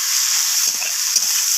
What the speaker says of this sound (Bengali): তো সমস্ত কিছু মশলা এইভাবে নাড়াচাড়া করে সবজির সাথে কষিয়ে নিতে হবে।